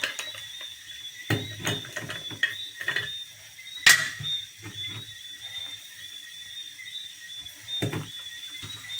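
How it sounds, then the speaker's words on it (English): A pepper grinder cranks black pepper into a pot of Trinidadian corn soup, giving close, dry ratcheting clicks in repeated bursts over several seconds, with faint kitchen noise behind. "I am going to add some black pepper."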